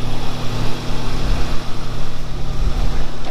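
A Toyota 3SGE engine fitted with Kelford 262° cams idles with a lumpy, uneven low rumble at around 1100 to 1200 RPM, steady and close without a break.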